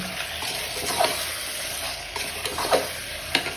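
Prawn biryani masala, salted, sautéed and stirred in a pan, giving a steady close sizzle with a few soft scraping stirs of the spoon.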